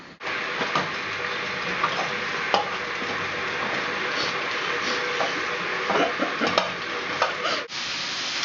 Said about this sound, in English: So the mushrooms are frying up nicely, and the beans are boiling away.